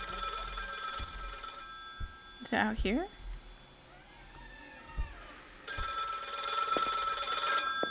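A telephone rings in the video game Lakefront Restaurant, a steady bright electronic ring that runs loud, cuts out for a few seconds while a person talks, then resumes.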